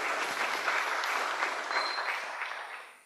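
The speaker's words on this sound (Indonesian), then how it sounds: "tepuk tangan untuk beliau" Audience applause in a provincial auditorium in Bali for the Governor of Bali, a thick, even roar of clapping hands that stays level and then fades away at the very end.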